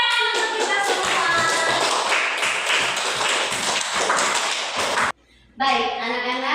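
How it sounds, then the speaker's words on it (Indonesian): A class of schoolchildren claps their hands together in a dense, rapid burst for about five seconds, followed by a brief pause and then children's voices chanting in unison. "Tepuk tangan untuk kita semua."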